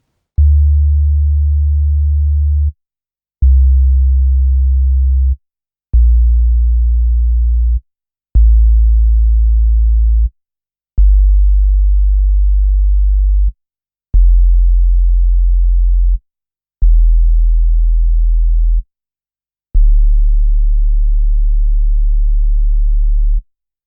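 Low sub-bass sine test tones starting on D, eight separate steady notes each lasting about two seconds with short silent gaps between them, loud and clean with nothing else heard.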